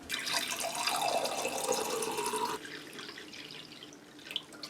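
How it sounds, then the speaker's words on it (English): Water runs from a tap into a cup for a couple of seconds, then stops, leaving quieter trickling and a few drips. "I take this cup and I fill it all the way with water"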